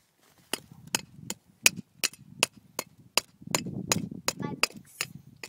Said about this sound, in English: Hammer your bricks over there.